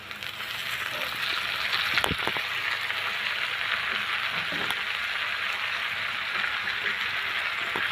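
Beaten egg and pumpkin flowers frying in a pan, a steady close hiss of sizzling oil with a few faint clicks and pops throughout.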